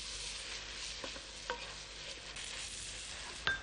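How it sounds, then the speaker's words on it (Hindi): Chopped green chillies being stirred into onions in a frying pan, a steady sizzle with a few sharp clicks of the spoon against the pan, close and continuous. "इसमें डालें बारीक कटी हुई हरी मिर्च, इसे भी मिक्स कर लेते हैं"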